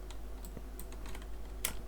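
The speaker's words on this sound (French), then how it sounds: "si vous entendez le bruit de mon clavier qui est un peu fort, c'est normal" Loud clacking of a computer keyboard, fast irregular keystrokes recorded close to the microphone, with a sharper burst of keys near the end and no talking.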